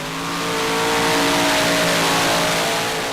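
Modified tractor-pull machine driven by four automotive engines of about 2,500 horsepower each, roaring loud and steady as it pulls down a speedway track, the droning note swelling and holding.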